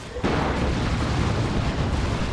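Artillery shells from a triple barrage slam into a Land Raider tank in Warhammer 40k: Dawn of War 2, bursting in at once as a loud, rumbling wall of overlapping explosions that holds steady to the end.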